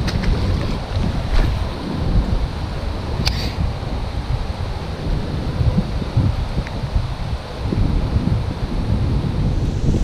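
Steady gusting wind buffets the microphone in a continuous low roar while bass fishing, with water lapping faintly beneath; no voices.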